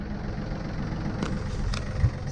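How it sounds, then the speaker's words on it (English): A sailboat's engine running at a steady idle to recharge a flat battery while cruising the Mediterranean, a continuous low rumbling drone with a couple of faint clicks. "we need to keep running the engine now to charge up the battery"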